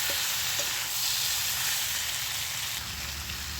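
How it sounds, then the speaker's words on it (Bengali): Fried potatoes and ash gourd sauté in hot oil for a vegetarian Bengali curry, producing a dense, continuous close-up sizzle with faint stirring underneath and no voices. "এবার আমি ভেজে রাখা আলু আর চাল কুমড়োটা দিয়ে দিচ্ছি। এটা দিয়ে আমি মিনিট 5-এর মতো কষিয়ে নেব।"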